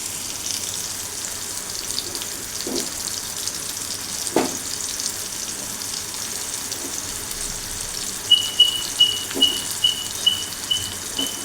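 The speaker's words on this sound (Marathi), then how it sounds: "सुकलेला बांगड्याचं फ्राय करायचं आता मी जर टाकते लाल मसाला हा आपला घरगुती मसाला" Dried mackerel frying with homemade red masala, a steady, close hiss of hot oil with occasional stirring taps and a short run of rhythmic clicks near the end.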